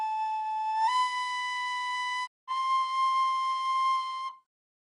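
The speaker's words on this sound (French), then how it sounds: "Avec un instrument de musique, une flûte à bec par exemple" A recorder plays sustained, clear whistling notes close by. The pitch steps up after a low start, the note briefly stops, then a new tone resumes and holds steadily before ending.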